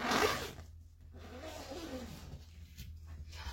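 Zipper on a fabric storage bag, a quick rasping zip pulled close at the start, followed by softer rustling and handling noises against a low background hum.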